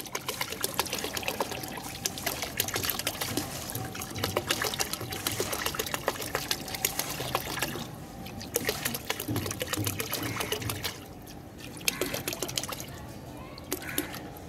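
Ready-mixed phenyl ingredients poured into water, giving a continuous splashing, trickling stream that stays close and fairly loud, easing briefly near the end.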